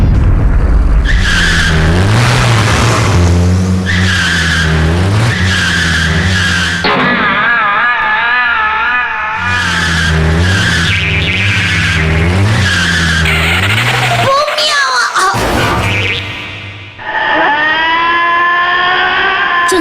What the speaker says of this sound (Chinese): 国道上一辆货车掉落了一箱货物，小戴紧急转弯闪避，悲剧就这样发生了。